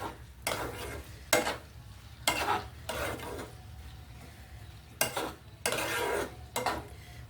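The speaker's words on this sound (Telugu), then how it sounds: "సిమ్లో పెట్టి వేగించుకోవాలండి" Capsicum and potatoes fry in a pan on the stove, a steady sizzle broken by several loud scraping bursts of a spatula stirring against the metal, close and with no talking.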